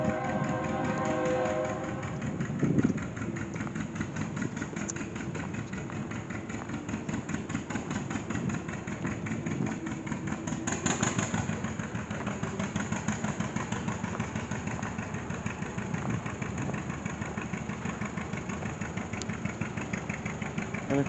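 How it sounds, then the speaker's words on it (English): An old tractor at an annual tractor show rumbles steadily along the road as a deep, continuous engine drone, moderately close and unbroken for the whole stretch, with no talk over it. "Got one old tractor rumbling down the road over here."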